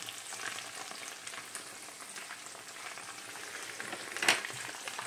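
Cheese frying slowly in a pan over moderate heat, a steady bed of crackling sizzle with small pops and one sharper spatter burst near the end, close and continuous with no voices.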